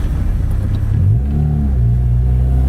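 A 1996 Honda Accord accelerates hard, its engine rising through the revs with a brief gear change partway, loud and close with steady road rumble underneath and no talk.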